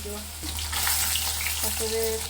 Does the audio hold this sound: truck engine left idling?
no